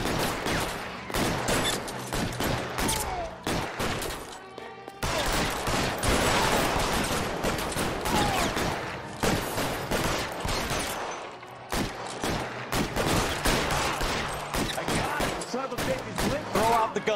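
Sustained heavy gunfire in L.A. Noire, shots aimed at a vehicle's tires during a shootout at a plating plant, dense bursts and volleys filling most of the stretch with brief pauses between.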